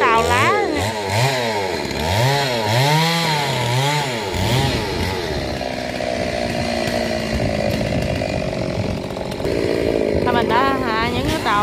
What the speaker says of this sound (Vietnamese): Mình đang kéo máy cưa nhỏ lên để hạ bớt những tàu lá.